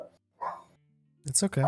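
Pet dogs barking at someone walking past the door indoors, with a few sharp barks and a whine, followed by a person speaking soothingly.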